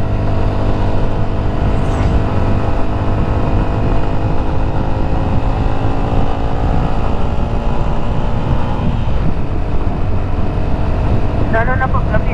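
A Yamaha Sniper 150 motorcycle carrying two riders on the road to Kaybiang Tunnel drones with a loud, continuous engine note mixed with heavy wind rush throughout.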